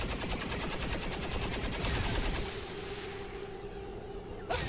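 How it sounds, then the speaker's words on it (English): A newly acquired gun firing in XCOM 2, a rapid rattling burst of automatic shots for about two seconds, then a lingering whooshing tail and a brief sharp hit at the end. "See this new gun fire"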